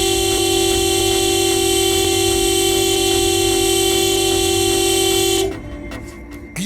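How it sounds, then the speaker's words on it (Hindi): A car horn blares in one long unbroken honk lasting several seconds, loud and close, then cuts off abruptly. "ऐसे हॉर्न क्यों बजा रहे हो"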